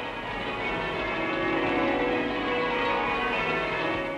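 A steady wash of British church bells pealing together during the First World War, ringing continuously with overlapping tones and no voices.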